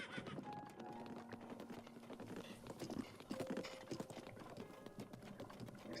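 Horse hooves clip-clop in a video game, a fairly faint, irregular patter of steps with a few soft clicks mixed in and no talk.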